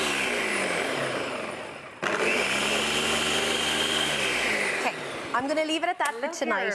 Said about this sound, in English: So I'm going to turn on the food processor for a sec, right? And we're just going to blend it up.